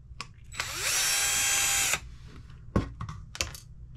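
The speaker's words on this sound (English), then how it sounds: "Take these screws out here." A power driver runs for about a second and a half, backing screws out of the plastic chassis of a Losi Mini B RC car, loud and close, followed by light clicks and handling sounds.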